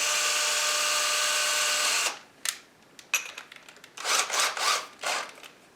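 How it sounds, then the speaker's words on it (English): A power drill boring a small pilot hole for a bypass sliding closet door runs steadily at close range for about two seconds, then stops, followed by short scattered bursts of drilling and handling noise. "we're going to start to drill very slowly"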